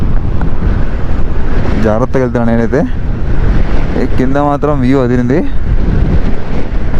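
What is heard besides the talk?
strong wind blowing on mountain road, Nubra Valley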